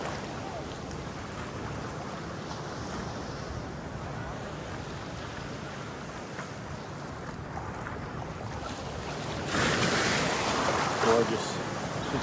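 Ocean waves and wind on a catamaran sail off Waikiki, Honolulu, a steady close wash of water and breeze that swells louder near the end.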